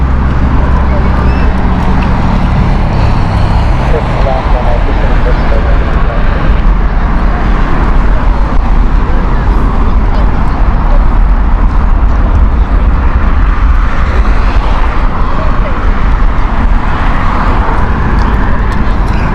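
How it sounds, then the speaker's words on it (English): Royal Jordanian Airbus A320-200, about ten years old, arriving at London Heathrow: a steady, loud broadband jet roar with strong low rumble that holds evenly throughout. "Next inbound flight is Royal Jordanian. This is Airbus A320 200 series."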